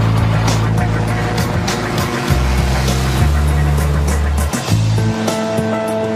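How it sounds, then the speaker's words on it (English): An Apollo Jetstar two-seat microlight weighing under 500 kg, with a Rotax 4-cylinder engine, at Meydan racecourse in Dubai, gives a loud, steady, close engine drone whose pitch shifts and steps several times throughout. "these machines can fly 2 men with a powerful Rotax 4-cylinder engine"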